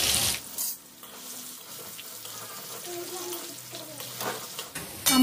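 Cut potatoes fry in hot oil in a pan as salt is added: a crackling sizzle with bursts of spattering and stirring, heard close.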